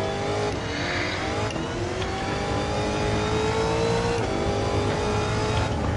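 A race car engine at full throttle in Gran Turismo 7 holds a loud, steady high-rev drone with slight pitch shifts as it powers through a corner, heard alone.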